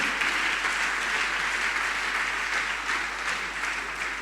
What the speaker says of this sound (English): I want you to clap for Mike